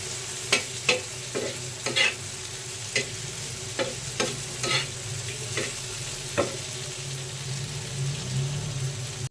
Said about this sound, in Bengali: পেঁয়াজটা ভাজা আমার হয়ে গেছে